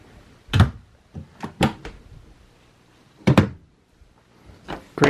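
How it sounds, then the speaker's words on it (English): Large drawers under the dinette of an Outdoors RV Timber Ridge 24RLS travel trailer pulled open and pushed shut, a series of close, sharp thuds and sliding knocks with quiet gaps between them. "Great big drawers under the dinette. They pull out"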